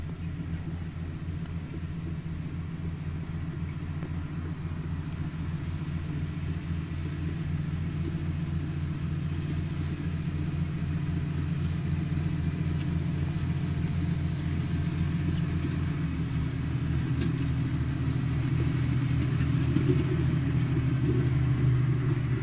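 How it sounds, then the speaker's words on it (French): A farmer's tractor engine runs as a steady low rumble that holds at an even level throughout, fairly close and moderately loud, with no talk. "Je vais vous faire voir son beau tracteur."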